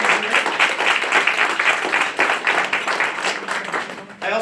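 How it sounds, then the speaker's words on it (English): An audience at a groundbreaking reception for The Commons at the Derryfield School gives a round of applause for the staff, a dense, steady burst of clapping that dips briefly near the end. "So a big round of applause to the Derryfield staff and everybody else who's here."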